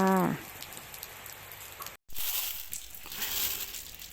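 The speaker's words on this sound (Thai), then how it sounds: "และวันนี้เราก็เจอฝนอีกแล้วนะคะ" Heavy rain falls as a steady, close hiss of drops pattering on surfaces, with a brief break partway through and no talking.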